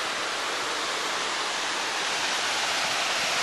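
A waterfall in a forested valley rushes in a steady, dense broadband roar that holds constant throughout, with no voices present.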